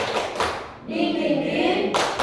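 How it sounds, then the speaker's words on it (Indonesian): Group of children doing a rhythmic spirit clap at a school gathering, a few brisk claps framing a burst of voices chanting together. "Tepuk semangat."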